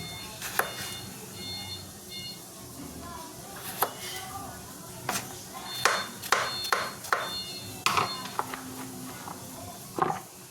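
A knife chops through fresh bottle gourd (upo) on a board in a home kitchen, giving sharp irregular knocks that cluster more densely midway, over low background noise.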